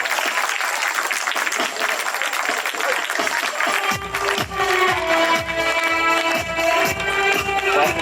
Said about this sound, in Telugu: అందరూ క్లాప్స్ కొట్టి పాస్టర్ గారిని ప్రేమపూర్వకంగా స్టేజ్ మీద ఆహ్వానిద్దాం